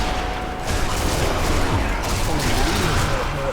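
Gunfire in the zombie shooter Sniper Elite Nazi Zombie Army 2, a dense, continuous barrage of shots and explosions filling the scene, with a voice talking over it.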